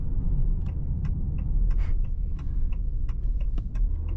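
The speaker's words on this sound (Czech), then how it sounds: "Cvakání směrovky, to mě tady hodně baví." Turn signal in a Maserati Grecale Modena ticks in a steady, regular rhythm of crisp clicks, heard from inside the cabin over a constant low road and engine rumble.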